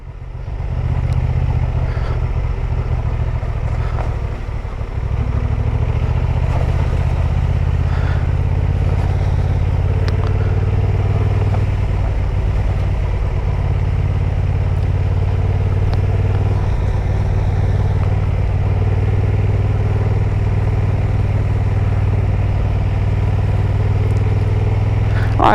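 A Honda XL750 Transalp motorcycle rides over a gravel section, its engine giving a steady, loud drone with crunching, clattering stones underneath, continuous and close throughout.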